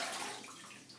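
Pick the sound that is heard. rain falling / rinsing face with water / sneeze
rinsing face with water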